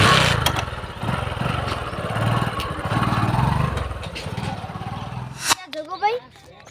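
A friend's motorbike engine runs steadily for about five seconds with a rough, close rumble, then cuts off abruptly, and brief vocal sounds follow.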